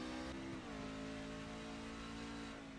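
A race truck engine in a racing video game at Watkins Glen, a steady mid-pitched drone with a brief throttle lift and pitch drop early on, then holding an even note, fairly faint.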